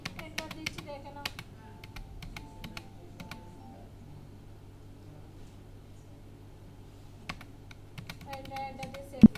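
Clusters of quick computer keyboard keystrokes tap out near the start and end, with a quieter pause between them and a sharper final press like the Enter key.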